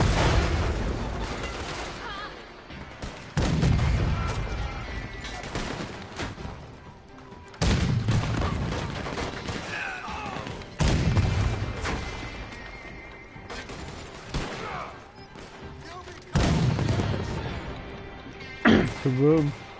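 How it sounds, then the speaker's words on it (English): Cannon firing in the video game Red Dead Redemption 2, several loud booming blasts spaced a few seconds apart, each with a long decaying rumble, alongside game sounds and occasional talk. "daddy got a cannon."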